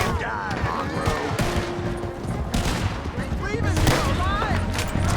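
Gunfire in Red Dead Redemption 2, a dense, loud barrage of rifle and pistol shots cracking continuously over shouting voices in a chaotic shootout.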